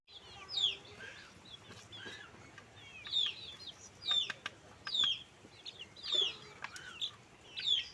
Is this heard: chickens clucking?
yes